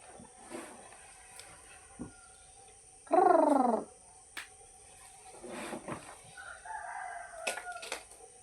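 A rooster crows once, loud and fairly close, amid scattered clucking chickens and a steady insect hum in the background.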